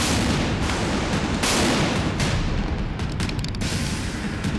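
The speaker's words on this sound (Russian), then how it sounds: "we'll open fire using an absolutely new cannon" A Russian Armata tank firing its new cannon makes heavy, continuous booming blasts and rumbling that fill the whole stretch at high volume, with no speech over them.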